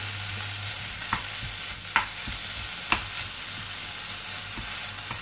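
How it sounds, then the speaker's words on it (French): Cured ham frying in a pan gives off a steady bright sizzle under a low hum, with a few sharp clicks and scrapes as it is stirred now and then. "je vais faire revenir mon jambon cru"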